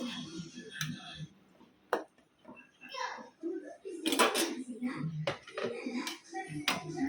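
A utensil clinks and scrapes irregularly against a metal pot, stirring a boiling fish curry with mango, close by, while a person talks intermittently.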